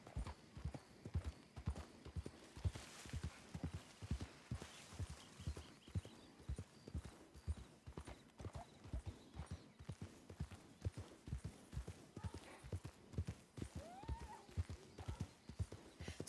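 Horse hooves clip-clop at a steady walking rhythm through a western roleplay video game, with a brief whinny rising above the footfalls, moderately quiet and continuous.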